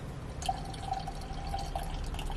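Beer pouring from a bottle into a glass, a home-brewed lager from an easy kit, giving a steady close liquid trickle with faint dripping, alone without talk.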